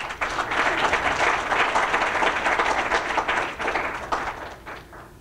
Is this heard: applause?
yes